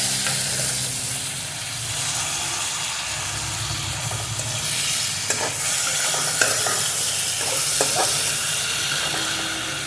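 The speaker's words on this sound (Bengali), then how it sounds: "চিংড়ি মাছ খুব বেশি ভাজবো না, গায়ের রঙটা চেঞ্জ হলেই আমি এটাকে তুলে নেব" Prawns fry in a hot pan for a Malabar spinach seed curry, giving a steady, close sizzle with scattered stirring clicks and pops throughout and no voices.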